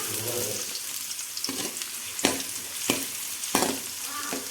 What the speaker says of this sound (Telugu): అల్లం వెల్లుల్లి పేస్ట్, తర్వాత ఆనియన్స్ వేసి ఆనియన్స్ కలర్ చేంజ్ అయ్యేంత వరకు వేపేసుకోండి.